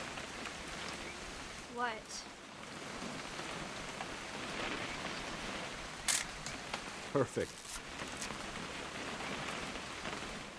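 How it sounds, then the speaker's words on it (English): Steady rain falls in the video game What Remains of Edith Finch, a broad even hiss with a camera shutter click and brief talk partway through. "It's gonna rain the whole weekend"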